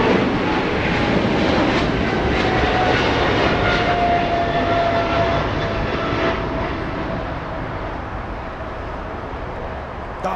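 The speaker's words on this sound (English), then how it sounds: "Close-up departure by this Japanese 777 flying to Tokyo Narita." An ANA Cargo Boeing 777 freighter departs runway 25L at Los Angeles International Airport with a loud, broad engine roar that holds steady, then slowly fades as the jet climbs away.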